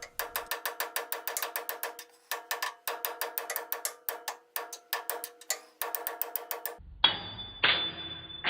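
Rapid metallic clicking and tapping in irregular bursts, hammering on metal up close in an awkward position while restoring a Rockwell lathe, ending with a harsher grinding scrape.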